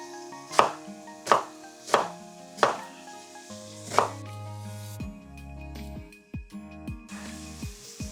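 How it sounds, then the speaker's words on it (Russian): One onion is chopped with a knife on a board in a home kitchen: five sharp, evenly spaced chops ring out near and loud, then softer cuts follow over light background music. "а мы этим временем порежем лук. Итак, я взял одну луковицу."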